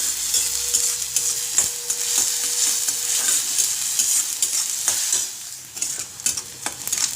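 Onion and a coarsely ground masala paste are sautéed in a pan, making a constant sizzle broken by frequent scraping and stirring strokes from a spoon, close and fairly loud, with no talking.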